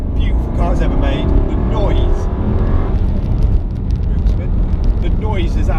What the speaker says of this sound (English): The noise is absolutely amazing. I think it's the best sounding car I've ever owned.